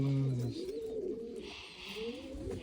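Dönek tumbler pigeons give a soft, rolling coo up close, a low throaty call rising and falling twice over faint background noise.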